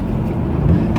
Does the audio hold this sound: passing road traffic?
yes